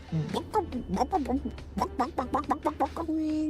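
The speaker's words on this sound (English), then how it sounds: "Mama, what does the chicken say?" A chicken clucking in a quick run of short, choppy calls, part of a children's animal sound game, fairly close and clear against a quiet background.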